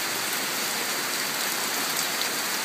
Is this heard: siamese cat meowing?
no